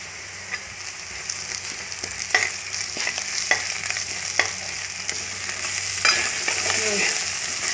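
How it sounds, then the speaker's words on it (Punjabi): Cumin seeds roast with onions in hot ghee, a steady close sizzle broken by scattered scraping stir clicks across the pan, no voices. "ਜੀਰੇ ਨੂੰ ਭੁੰਨ ਲੈਂਦੇ ਹਾਂ ਆਪਾਂ"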